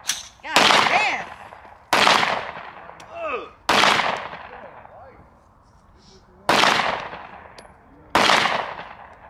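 Loud, close gunshots from a handgun fired outdoors, six sharp reports at uneven intervals, each trailing off in a long echo, with a lull in the middle and brief voices between shots.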